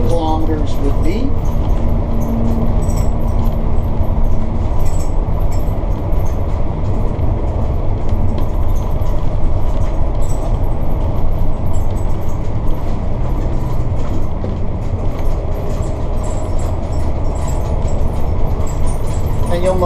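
Inside the cabin of a Sportscoach diesel motorhome at 60 km/h, a loud, continuous low rumble of engine and road noise fills the space, with faint rattles and a person talking over it.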